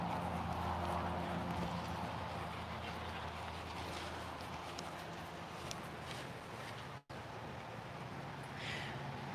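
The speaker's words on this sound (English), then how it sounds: "So this horse is Desi" Steady clip-clop of hooves walking at an even pace, close by, over a constant background hiss of wind and outdoor noise.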